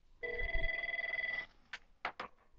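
Ringing tone of an outgoing phone call placed from the Avaya One-X Portal on an IP Office system: one steady electronic ring burst lasting over a second, followed by a few faint clicks.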